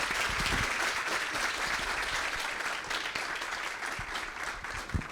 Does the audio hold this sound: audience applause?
yes